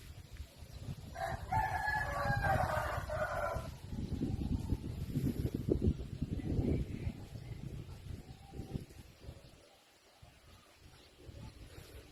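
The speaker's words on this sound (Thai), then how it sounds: "ดูไก่นะครับ ดูไก่ชมไก่นะครับ" Roosters crow on a chicken farm near Mae Sot, with a harmonic cock-a-doodle-doo near the start over steady clucking and farmyard noise on a rooftop viewing area; the calls fade toward a quieter end.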